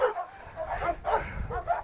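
A Cane Corso and a pitbull scuffle at close range, with repeated sharp barks, yips and whimpering whines coming in quick bursts.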